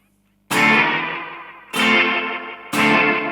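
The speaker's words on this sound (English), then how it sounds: "It's almost like a slapback here." Guitar through a NUX NDD-7 tape echo delay pedal set to a short slapback, three loud strummed chords, each ringing with a quick tight echo before fading.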